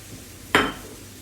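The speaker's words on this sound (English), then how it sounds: "We just stir that rice through" A single short scrape of a spoon through rice in a metal paella pan, one close, fairly loud stroke that fades quickly in a quiet kitchen.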